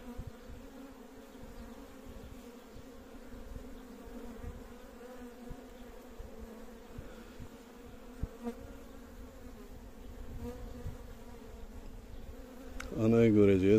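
Honeybees buzz steadily at an open hive while its frames are being inspected. A soft, continuous hum runs throughout with faint background sounds, and a louder rustle comes at the very end.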